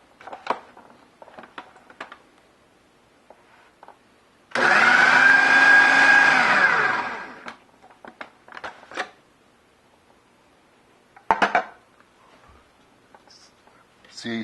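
A food processor grinds gyro meat into a paste in one loud burst lasting about two and a half seconds, whirring and then winding down, between quieter kitchen clatter and a person talking.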